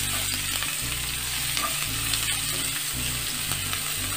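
Chopped onion fries in oil in a pan with a loud, steady sizzle, and a utensil stirs it every so often. No one speaks.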